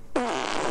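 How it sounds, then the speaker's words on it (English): Cartoon fart sound effect from an animated kids' show: a single short, loud, buzzy raspberry-like blast lasting under a second, with a wobbling pitch, heard alone. "Oh, that's the first fart jokes."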